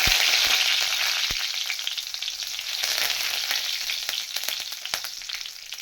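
Curry leaves fry in hot oil while green chilli mandi is being made, giving a loud, close hissing sizzle with a few sharp crackles and pops, strongest at the start and easing slightly.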